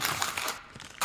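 A crunchy kettle chip bitten close to the mic, giving a dense burst of crackling crunches that eases off, then a fresh loud crunch at the end.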